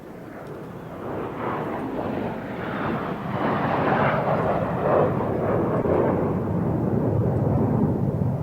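An aircraft passes overhead as a low, rumbling roar that gradually builds louder and stays broad and sustained, heard at some distance.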